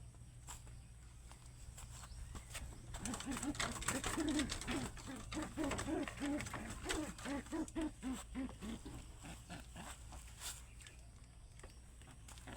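Pigeons cooing softly in a loft as they are fed garlic, a run of low, repeated burbling coos in the middle stretch, mixed with scattered clicks, pecks and shuffling close by.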